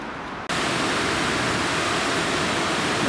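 The River Ogmore rushes in a steady broadband roar, loud and close, starting abruptly after a brief quieter moment and continuing unbroken.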